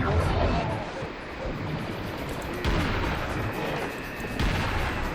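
Repeated booming gunshots fire in a noisy scene in Serious Sam: The First Encounter, with heavy low rumble and a few distinct blasts spaced over several seconds.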